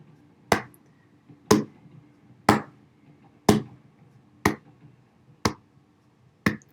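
Single sharp hand claps in a performance, seven evenly spaced strikes about one second apart, loud and close with short decays and quiet gaps between.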